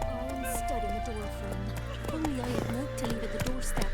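Hoofbeats of the horse Roach galloping in The Witcher 3 video game, a quick, rhythmic clip-clop that runs steadily throughout, with a voice talking over it.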